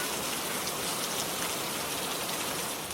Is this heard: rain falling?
yes